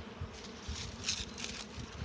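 Honeybees buzz steadily and close around an ant-infested hive, a dense droning hum with individual insects swelling louder as they pass.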